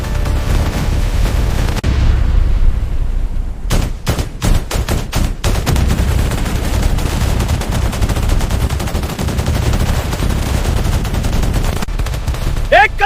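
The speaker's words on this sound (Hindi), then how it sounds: "मशीन गने सिर नीचे रखो।" Loud, sustained machine gun fire in a dramatized Kargil war battle, with rapid bursts and booming volleys layered over a continuous rumble of combat for the whole stretch.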